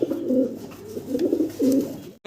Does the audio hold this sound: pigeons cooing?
yes